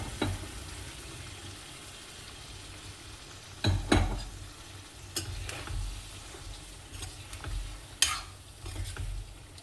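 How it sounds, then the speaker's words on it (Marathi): Washed mutton pieces dropped into a pan of hot spiced oil for a Nagpuri Saoji curry, a soft steady sizzle broken by clattering stirs and scrapes of a spoon against the pan. "धुवून स्वच्छ केलेलं मटण आहे ते मी टाकलं"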